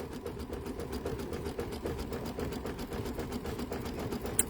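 An embroidery machine stitches a wide, dense satin stitch on a pumpkin design, a rapid, even mechanical chatter running steadily at close range.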